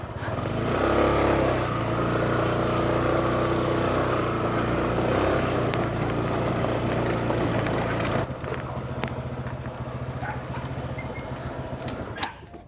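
A motorcycle engine drones loudly and steadily up close, then drops to a rougher idle near the end.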